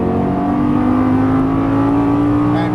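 A Lamborghini Gallardo LP550-2 accelerating hard on the throttle on a track, its engine a loud, continuous, close-up wail whose pitch climbs steadily throughout.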